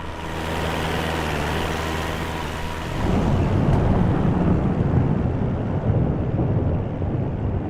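Low, rumbling thunder from a lightning storm in Microsoft Flight Simulator, rolling steadily over the droning engine of a Cessna 172 in flight and swelling louder partway through.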